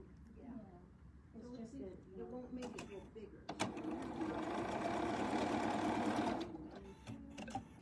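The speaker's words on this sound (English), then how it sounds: "We'll sew this to this one." A sewing machine stitches table runner pieces in a steady mechanical whir, starting in short bursts and then running continuously for a few seconds before stopping, with a person talking over the start.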